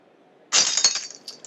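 A synthetic, AI-generated glass break: a single sharp shatter after a brief silence, followed by bright tinkling shards that fade quickly, close and clean with no talking.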